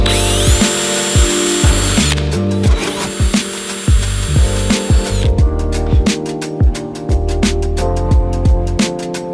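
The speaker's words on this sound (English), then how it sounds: "All the holes are drilled." A power drill bores holes in a steady run of whirring bursts, its motor pitch shifting as it bites and releases, loud and close with rhythmic clicks and knocks between passes.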